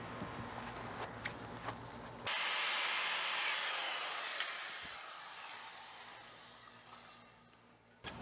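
An oscillating multi-tool cuts into LP lap siding, a sudden loud high buzzing hiss that starts abruptly after low background hum, holds steady for several seconds, then slowly fades before stopping.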